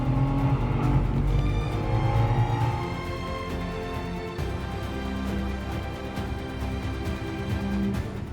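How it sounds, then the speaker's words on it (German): A Ferrari LaFerrari hybrid supercar drives by under power, its engine a loud, steady roar that surges and eases over several seconds with faint tire noise. "Der LaFerrari, der König der italienischen Supersportwagen."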